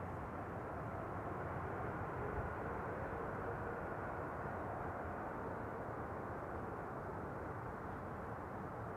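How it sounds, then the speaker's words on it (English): A geared turbofan airliner at Amsterdam Schiphol gives off a broad, steady engine roar that holds evenly at a distance for several seconds, with no clear whistle standing out. "it's a combo of whistle and whale sounds. All the trademark sounds of geared turbofan engined airplanes"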